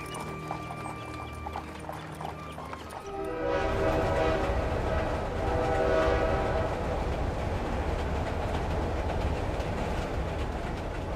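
A train runs past with a blaring horn; quiet at first, then after about three seconds a loud, sustained rumble of rail cars and horn tones fills the rest, steady and close.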